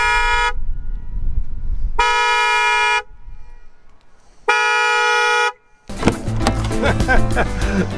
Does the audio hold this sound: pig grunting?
no